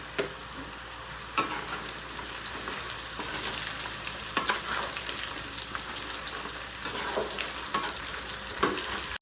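Potatoes and carrots for menudo fry in a pan with a continuous steady sizzle and occasional sharp scrapes and clatter from stirring, fairly soft, without talk.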